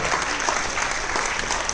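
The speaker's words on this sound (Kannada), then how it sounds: "ಜೋರ ಚಪ್ಪಾಳೆ ಬರ್ತಾ ಇರಬೇಕು ಪ್ಲೀಸ್" Loud, dense applause from an audience at a film's audio release function, a steady clapping roar filling the whole moment with a light crowd murmur beneath.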